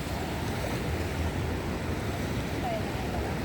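Large ocean waves at Bolinao Beach in Pangasinan, Philippines, make a continuous broad roar of surf blended with wind buffeting the microphone, steady and fairly loud throughout without distinct breaks.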